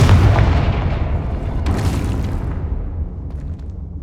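The Confringo blasting spell goes off in the video game Hogwarts Legacy as a loud booming explosion with a deep rumble that slowly decays and fades over a few seconds.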